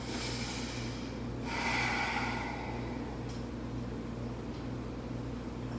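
Slow, steady breathing in and out while holding a yoga pose, soft and close, with one fuller breath standing out near the middle over a quiet, even room hum.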